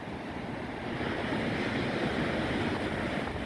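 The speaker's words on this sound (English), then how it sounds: "And look how dramatic these waves are coming along" Sea waves break and surge along the Paignton esplanade in Devon, a steady, loud wash of surf with wind rumbling across the microphone and no talk.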